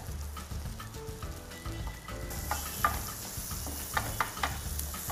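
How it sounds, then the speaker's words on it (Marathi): Sliced onion drops into hot butter on a tawa, and a steady sizzle rises and thickens partway through, with small spatters and occasional utensil scrapes close and clear throughout. "आता मी त्यात उभा चिरलेला कांदा घालणार आहे"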